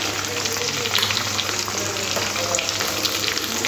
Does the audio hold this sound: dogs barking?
no